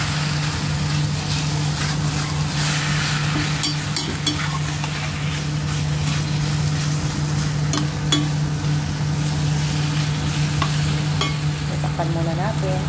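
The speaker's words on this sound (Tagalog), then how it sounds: "Medyo prito natin ng konti." Steady, dense sizzling of chicken frying in a pan with a constant low hum underneath and occasional stirring clatter, no one talking.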